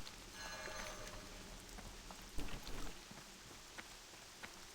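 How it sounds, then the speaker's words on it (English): Steady rain patters through a World of Warcraft game scene, a soft even hiss with scattered drops and a slightly louder burst in the middle, low and continuous throughout. "I'm getting rained on, y'all."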